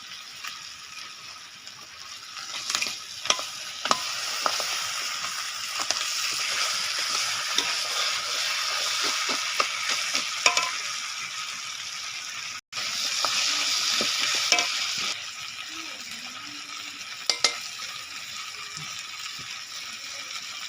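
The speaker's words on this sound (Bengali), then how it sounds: "এবার দিয়ে দেবো মাছের মাথাটা ভাজা রাখছি" A fish head frying with spices in a pan gives a steady sizzling hiss through the whole stretch, with intermittent scrapes and knocks of stirring and one brief dropout partway through.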